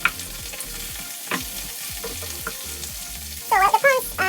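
Garlic tiger prawns fry in a pan with a steady close sizzle, broken by several stirring scrapes and knocks, and a brief burst of louder crackling near the end.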